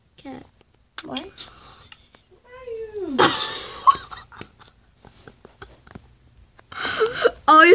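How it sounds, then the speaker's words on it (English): A cat in the Minecraft video game gives a few short meows between intermittent bursts of game sounds, while a person talks nearby. "you're a little cute cat"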